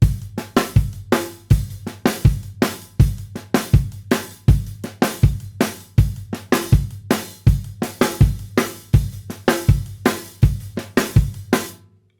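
A steady rock drum beat with punchy kicks and snare hits, some strokes accented louder than others, played alone with a constant low bass tone underneath.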